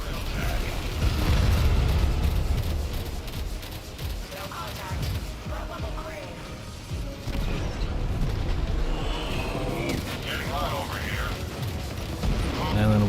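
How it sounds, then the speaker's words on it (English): Torpedoes launching and exploding in the Warframe video game, heard as a dense, loud rumble of booms and bursts with creaking, mechanical game effects running continuously throughout. "Torpedoes away!"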